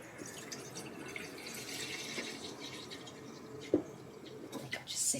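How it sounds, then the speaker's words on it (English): A plant pot being filled with water at a sink, a soft continuous stream of running water with a few drips and small knocks, close but quiet, ending in a brief brighter splash. "I might actually just fill up the pot that they were in with water."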